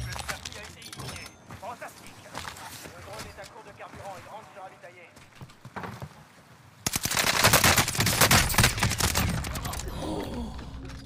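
Rapid automatic gunfire in an online shooter video game, a dense sustained rattle of shots that swells much louder and harsher partway through, with a player talking over it.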